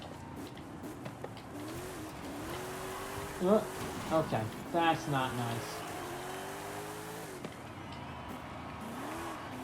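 Race car engines from Forza Horizon 5 rallycross, two cars bouncing off the rev limiter with a steady droning whine and rising pitch sweeps, someone talking over them.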